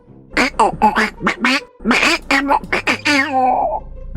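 Donald Duck's squawky cartoon voice quacks and babbles in rapid, garbled bursts, loud and close, sounding like a voice imitating a duck.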